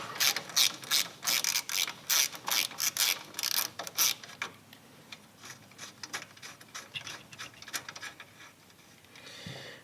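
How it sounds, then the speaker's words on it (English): Ratcheting 9/16 wrench loosening the front motor mount link on an FXR motorcycle, fast repeated clicking bursts for about four seconds, then slower, quieter ratchet clicks close up. "So we'll just go ahead with a 9/16 wrench and do that."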